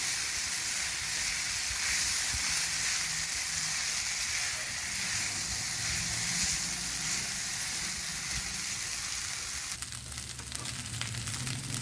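Maggi noodles are tossed with vegetables in a hot pan, giving a constant, close sizzle that turns rougher near the end with scraping stirring noises; no voices are present.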